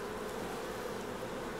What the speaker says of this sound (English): there's bees